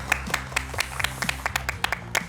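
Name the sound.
quiz contestants clapping for each other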